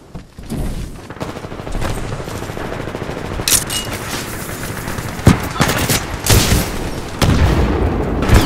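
Grenade blasts in the shooter Titanfall 2, among continuous gunfire, with several loud, sharp booms standing out from the clatter of weapons in a chaotic firefight.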